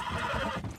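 A horse whinnies in a short, loud, close neigh lasting under a second, its quavering call filling the whole moment.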